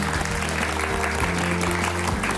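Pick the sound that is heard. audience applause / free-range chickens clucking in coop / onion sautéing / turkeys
audience applause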